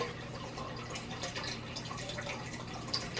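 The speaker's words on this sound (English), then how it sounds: "Now I'm dumping dechlorinated water into the filter and then letting it trickle out" Dechlorinated water poured into the filter of a snail tank, a faint, continuous trickle and splash with scattered drips, close by and without talk.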